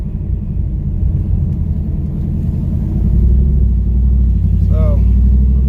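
A cammed Ram pickup truck engine runs with a deep, lumpy low rumble that swells louder about halfway through, with a brief voice-like sound near the end.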